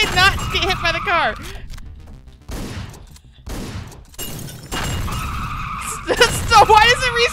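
Tires screech in a long skid amid engine roar and game sound effects in the video game Hotline Miami, with a person talking over it; loud and busy throughout.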